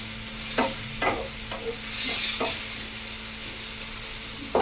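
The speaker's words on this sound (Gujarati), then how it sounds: "આપણે જે આ વેજીટેબલ લીધા છે એને આપણે ખાલી મિક્સ જ કરવાના છે" Vegetables being stirred in a pan with ginger, green chilli and garlic paste over low heat: several separate scraping strokes of the spoon against the pan over a soft steady sizzle, close and alone with no talk.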